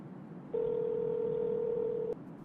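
A telephone tone sounds on a call: a single steady, moderately loud tone holds for about a second and a half over low background hiss, then cuts off.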